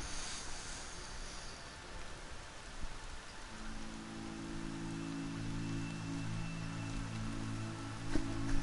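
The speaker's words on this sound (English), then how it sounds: "Enjoy the rain." Steady rainfall patters across the scene in the Horizon Zero Dawn video game, a soft, even hiss under a low sustained musical drone that comes in partway through, with no talking.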